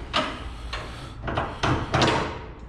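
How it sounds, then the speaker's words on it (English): Car doors on a project car in a collection are worked open with several dull thunks and clunks spread over a few seconds, close and fairly loud, with no talking. "I'm not sure if I can get these doors open."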